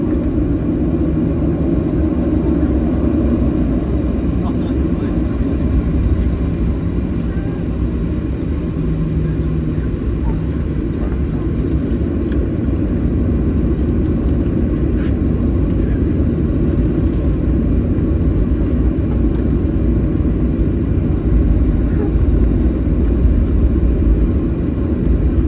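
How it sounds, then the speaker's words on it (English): Southwest Airlines Boeing 737-700 taking off from Washington Reagan National, a steady loud cabin rumble and engine roar that holds throughout with no talk. "We are cleared for departure and we are on our way."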